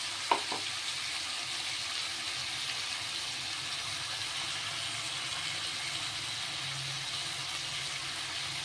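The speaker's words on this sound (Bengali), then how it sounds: "এবার দিচ্ছি পেঁয়াজ, রসুন, আদা, কাঁচা লঙ্কা, টমেটো একটা পেস্ট করেছিলাম, সেটা দিয়ে দিলাম।" Onion, garlic, ginger, green chilli and tomato paste sizzle steadily in hot oil in a pan where pomfret fish is frying, a continuous close hiss with a couple of brief clinks near the start and no talk.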